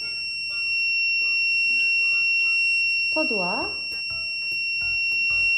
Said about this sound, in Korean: 금속이 나타나면 미리 화살표, 램프 표시와 함께 삐소리가 나요